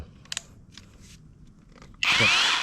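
An OSUKA three-mode cordless rotary drill is switched on near the end, a sudden loud high-pitched motor whine running steadily after a stretch of quiet handling clicks.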